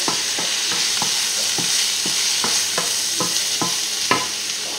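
Salmon risotto cooks in a pan with a steady, close sizzle and a regular rhythm of soft scraping stir strokes, roughly two per second, with no talking.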